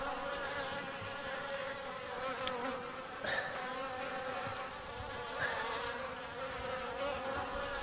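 Steady, dense buzzing of many bees swarming close by during a Maasai wild honey harvest, a continuous droning hum that swells slightly at moments, with no voices.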